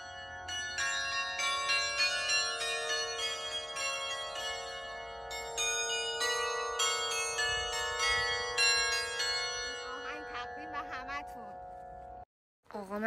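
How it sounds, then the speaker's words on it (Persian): Mechanical glockenspiel bells ring out at a small stone chapel on the southern shore of Lake Lucerne, layered chimes sounding continuously and fairly loud for about twelve seconds before stopping abruptly. "یک کلیسای کوچک سنگی و یک ناقوس مکانیکی به اسم گلاکنشپیل"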